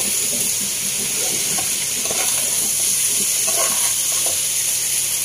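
Fresh chicken pieces stirred and browned in a hot pan for Filipino tinola, a steady close sizzle and hiss with scattered scraping stir sounds throughout, no talking.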